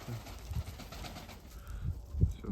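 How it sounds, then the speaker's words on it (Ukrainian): Budapest and Mykolaiv breed pigeons coo softly in low, repeated murmurs close by, with a faint background hiss. "Це мої красні голубки"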